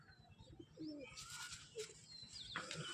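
Male pigeons coo and chirp close by, soft throaty calls repeating in short bursts over a low rustling background, with no talk.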